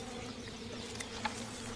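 Bees buzzing steadily around a hive raided by bears in the wild, a faint continuous insect hum with a couple of brief louder passes.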